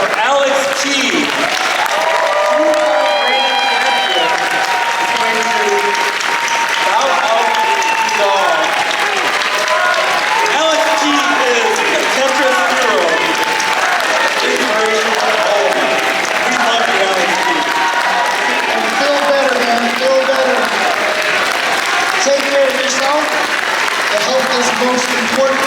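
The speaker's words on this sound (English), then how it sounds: "let's get a round of applause for Alex T." Audience applause for a classic Tetris player at a gaming expo semi-final: loud, dense, sustained clapping from a large crowd that fills the whole stretch, with cheers and voices mixed in.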